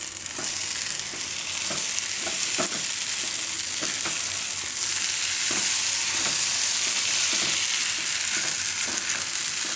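Spiny gourd (kantola) cooking in a spiced masala, giving a continuous close sizzle and frying hiss with scattered soft clicks of stirring throughout, no voices.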